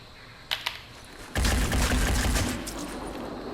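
Gunfire in the tactical game Phoenix Point during a faction haven defense: two sharp shots, then a loud sustained burst of automatic fire that rumbles and slowly tapers, with no talking.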